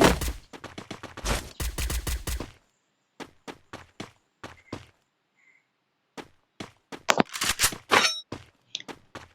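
Bursts of automatic gunfire in the battle-royale game Free Fire, an opening rapid volley followed by spaced single shots and short bursts separated by silences, then another heavy cluster of fire near the end.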